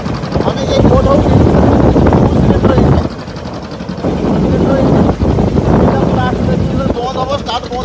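A boat engine runs at sea, a loud, steady rumbling drone mixed with wind buffeting, while voices talk over it throughout.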